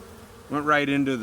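A honeybee's buzz rises abruptly from quiet at a hive during a fall oxalic acid treatment, a close, droning hum with a wavering pitch that holds to the end.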